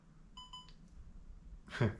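A DJI OM5 gimbal powers off with a short, faint electronic beep, then there is a quiet pause and a brief handling rustle.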